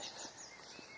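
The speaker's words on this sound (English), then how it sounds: "I've still got the birds though," Birds singing outdoors: faint high chirps and warbles over a soft, steady background hiss, heard at a distance.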